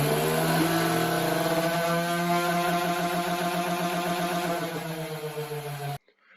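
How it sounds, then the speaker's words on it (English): Electric motors on a student-built portable ball launcher spin up its wheels, making a steady tonal whine that holds for several seconds, then wavers and cuts off abruptly near the end. "Now I'm going to power on the device so that we can watch as the motors power the wheels"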